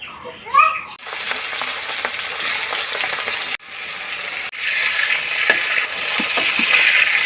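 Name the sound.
frying prawns in oil in a pan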